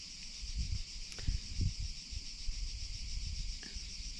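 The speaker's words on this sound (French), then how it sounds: "Alors je ne sais pas si vous les entendez, nos belles cigales." Cicadas shrill steadily in olive trees in Provence, a constant high buzzing drone that holds through the whole stretch, with scattered low rustles and soft knocks nearby.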